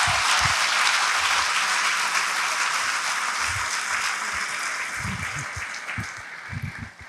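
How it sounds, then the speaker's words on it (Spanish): A church congregation bursts into loud, dense applause that holds steady, then gradually thins and fades toward the end. "Dele un aplauso al Señor fuerte."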